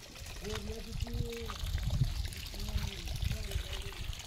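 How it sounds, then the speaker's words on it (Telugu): A tap in a village restroom runs without stopping, giving a steady trickling, splashing stream of water beneath someone talking. "24 hours కంటిన్యూ వాటర్ వస్తూనే ఉంటాయి ఫ్రెండ్స్"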